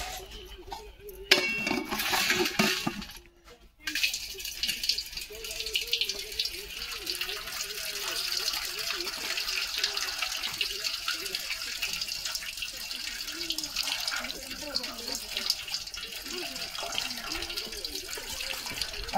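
Ambadi greens washed by hand in a vessel of water, with steady splashing and running water throughout and a louder gush and clatter near the start.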